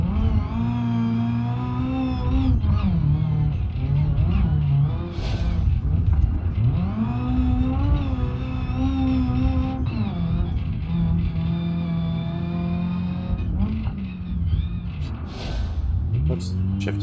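A damaged car engine in BeamNG.drive, hurt by over-revving, drones and climbs through repeated rev swells with gear changes, loud and continuous for the whole stretch, with a person talking over it.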